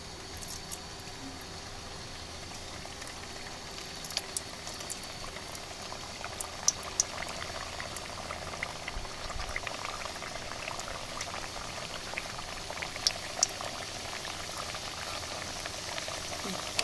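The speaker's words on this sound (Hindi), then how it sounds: "गर्म हो चुका है ऑयल, तो अब इसके अंदर हम एक एक बिस्किट डाल देते हैं।" Suji and maida biscuits fry in hot oil in a kadai, giving a steady, even bubbling sizzle that runs throughout with a few faint clicks.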